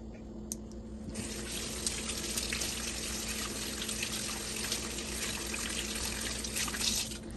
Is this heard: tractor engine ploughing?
no